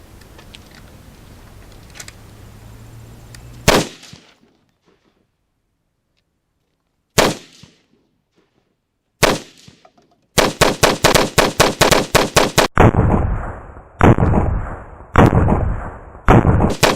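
An AR-10 rifle fitted with a Huber Concepts square muzzle brake fires outdoors in Shiocton, Wisconsin: a few single loud shots separated by silence, then a fast string of about a dozen sharp cracks followed by several heavier spaced blasts.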